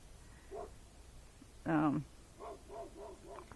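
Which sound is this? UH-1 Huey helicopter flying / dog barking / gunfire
dog barking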